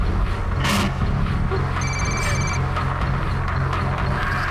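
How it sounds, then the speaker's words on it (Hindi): A telephone rings for an incoming call, a short electronic ring sounding over a steady loud background rumble, with no talking. "मुझे किसी ने ये वीडियो भेजा और फिर इसी नंबर से फ़ोन कॉल भी आया।"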